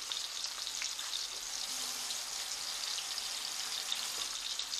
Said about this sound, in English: I'm going to be basting it with the butter and oil that's in the pan